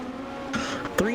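Several race cars in a racing video game, engines droning and sweeping up and down in pitch as they run close together, with a sharp rise near the end, under continuous commentator talk.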